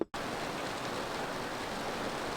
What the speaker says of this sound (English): it's really raining outside